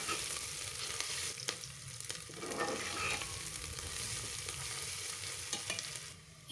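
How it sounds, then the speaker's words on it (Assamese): Onions with ginger-garlic paste frying in a pan while being stirred, a steady close sizzle with scraping spoon strokes throughout, no voices. "পিয়াজখিনি এই ধৰণে অলপ ৰঙচুৱা হোৱাৰ পিছত ইয়াত মই আদা নহৰুৰ পেষ্টটো দি দিম আৰু গুটেইখিনি এবাৰ ভালদৰে লৰাই লম"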